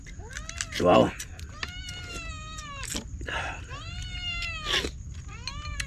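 Several cats meow repeatedly, loud and close, with drawn-out, wavering cries overlapping one another, beside people chatting near a fish cage by the water.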